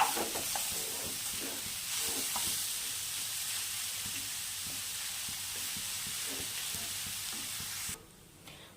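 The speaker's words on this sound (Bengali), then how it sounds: "নাড়তে থাকবো ঘিয়ে গাজরটাকে" Grated carrot cooks in ghee over a low flame for village-style gajar halwa, a constant close hiss of sizzling with light scraping stirs, ending abruptly in quieter background.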